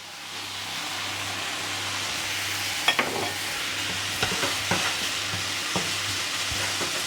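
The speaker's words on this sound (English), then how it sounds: "we're now going to put our raw shrimp, which won't take long to cook, into the wok" Raw shrimp and rice fry in a wok for nasi goreng, making a steady close sizzle with intermittent scraping and tapping of a utensil stirring through the pan.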